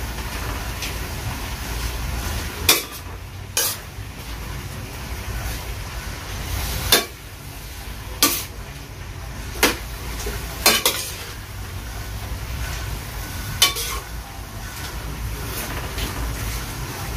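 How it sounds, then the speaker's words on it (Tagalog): Vegetables for chop suey being stirred in a pan, with a low frying sizzle throughout and sharp metallic clinks of the utensil against the pan at irregular intervals, close and fairly quiet. "Haluin lang para mapantay yung luto ng gulay."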